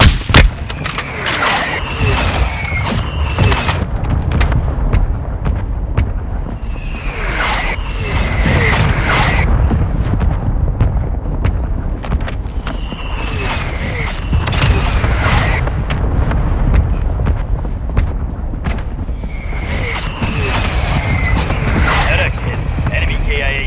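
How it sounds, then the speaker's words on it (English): Mortar strike explosions in Warzone 2, repeated heavy booms and rumbling blasts in a dense barrage over more than twenty seconds, loud and close, mixed with gunfire and game voice callouts. "Mortar strike on the way."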